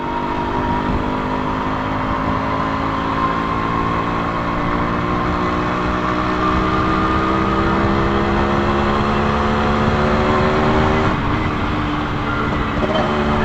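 A 1989 Yamaha RX100 two-stroke motorcycle revving while riding, a loud continuous engine drone with rising harmonic pitch as it accelerates, heavy wind rush throughout and a brief dip near the end like a gear change.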